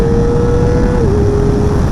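A Kawasaki ZX-4RR 400cc motorcycle engine runs loud and close at high revs, a sustained whine that holds steady and then dips briefly as if through a quick-shifter gear change.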